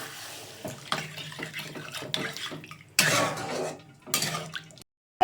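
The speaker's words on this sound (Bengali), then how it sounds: "আর এই যে এর মধ্যে জল ঢেলে দিচ্ছি যাতে আলুগুলো সিদ্ধ হয়ে যায়" Water is poured into a pan of potatoes being cooked for aloo dum, splashing and trickling close by in uneven bursts with clinks of the pan, then stopping abruptly near the end.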